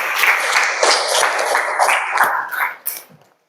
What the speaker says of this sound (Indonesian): Beri tepuk tangan untuk Ismato.